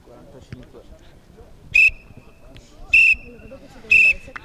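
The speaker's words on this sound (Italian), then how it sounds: "Time's up, fischia tre volte" A referee's whistle at the end of a university cup football match, blown in three sharp, loud, evenly spaced blasts about a second apart, over low crowd and commentary murmur.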